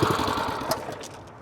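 A self-walking plate compactor engine running steadily with a rough, continuous mid-pitched drone and rattle, close and fairly loud, no voices.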